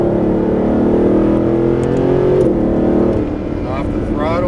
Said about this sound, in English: And roll on the throttle right there.